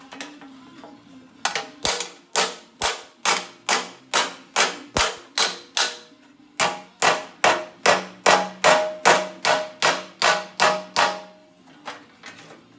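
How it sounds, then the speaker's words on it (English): A hammer strikes sheet metal while flattening a rust-repair panel on a 1969 Mustang, giving a long run of sharp, ringing tings at a steady, quick rhythm with short pauses, close and loud. "You're gonna hear the ting noise, and there's almost no way of avoiding it because I just don't have enough metal here."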